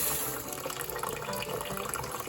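Hot water runs from a tap into a bowl with a continuous, close gushing and splashing that fills the moment, with no voices.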